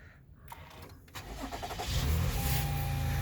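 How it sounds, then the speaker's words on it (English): A 2013–2019 Toyota Highlander engine cranks briefly and fires up, then settles into a steady close idle that grows louder and holds, with no voices. "Now what you want to do is start up the car."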